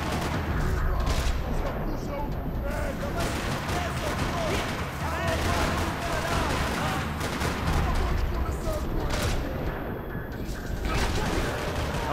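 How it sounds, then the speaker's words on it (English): Gunfire in the Max Payne 3 video game, a dense, continuous clatter of shots echoing across a parking lot, loud throughout with no pauses and mixed with game effects and mechanical sounds. "Another parking lot rattling with gunfire."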